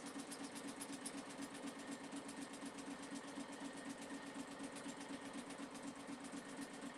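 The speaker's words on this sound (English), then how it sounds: "And I'm just sewing till it stops." A sewing machine stitches a buttonhole, running at a steady fast mechanical rate with even rhythmic pulses throughout, fairly quiet and close, no talking.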